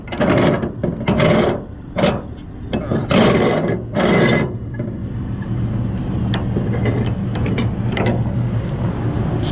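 Ratchet strap being pulled free from a lumber load on a truck, heard as several loud, harsh rasping pulls and rubbing strokes up close, followed by quieter clicks and rustling over a low idling engine rumble.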